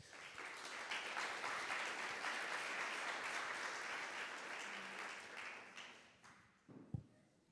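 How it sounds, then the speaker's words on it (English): Audience applause at a plenary session of an urban mobility conference in Vienna, welcoming a city official: a sustained wash of many hands clapping that swells, holds, then tapers off near the end. "Let's give him a round of applause."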